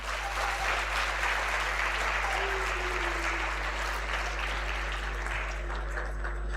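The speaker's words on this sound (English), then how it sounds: "A big round of applause for Dr. Rayan" Sustained applause from an audience at a Florida Tech University orientation program, steady and dense throughout with a constant low hum underneath.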